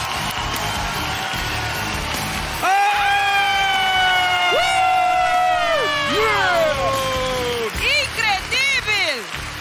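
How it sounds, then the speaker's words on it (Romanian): A comedy show audience welcomes a stand-up comedian with loud clapping, whoops and shouts that surge after a brief spoken lead-in and keep going strong, with yells rising near the end. "să-l primim cu cele mai puternice aplauze pe Cosmin Tobă!"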